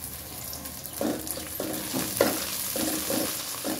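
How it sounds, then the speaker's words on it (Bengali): Onions with bay leaves frying in hot oil, a steady close sizzle punctuated by repeated stirring scrapes roughly every half second. "পেঁয়াজগুলো আমার হালকা ভাজা হয়ে গেছে। এখন দিয়ে দিচ্ছি 4টি তেজপাতা"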